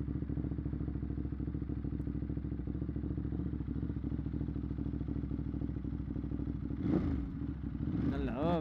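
Ducati motorcycle engine on a test ride, a steady close rumble throughout with some clatter, and a brief rev near the end.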